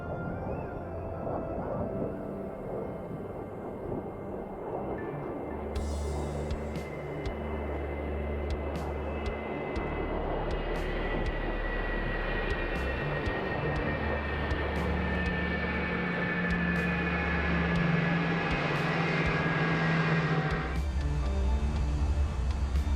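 Heatblur F-4E Phantom II jet taxiing back to parking at an airshow, a steady, loud engine roar holding throughout with a high whining tone sliding slowly and low rumbling pulses underneath, with no talk.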